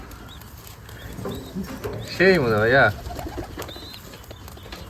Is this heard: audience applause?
no